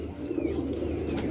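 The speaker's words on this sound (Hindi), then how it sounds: "बड़ा क्लास का कबूतर है" A Teddy pigeon being shown by a breeder gives a low, soft cooing that runs steadily through the clip over a dense, noisy background.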